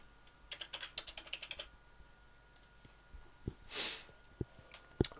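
Quiet keystrokes on a computer keyboard as a password is entered, a quick burst of light clicks followed by a few slower, sparser taps and a single louder key press near the end.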